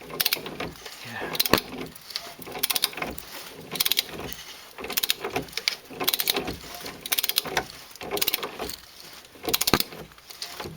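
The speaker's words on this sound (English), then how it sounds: "So the alternator obviously turns over quite nicely then." The alternator of a Toyota Carina E barn find turns over, giving repeated ratcheting, whirring mechanical bursts in an irregular rhythm, close and fairly loud.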